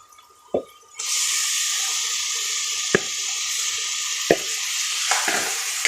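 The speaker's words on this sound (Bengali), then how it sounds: "মাংসটা অনবরত নেড়ে মশলা এবং তেলের সাথে ভালোভাবে মিক্স করে নিচ্ছি" Beef dropped into hot spice paste and oil bursts into a loud, steady sizzle after a moment of quiet, with a few sharp scraping stirs of the meat punctuating the continuous frying hiss.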